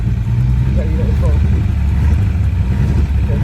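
Classic car pulling away in first gear, its low engine rumble steady and close throughout, with a voice talking over it.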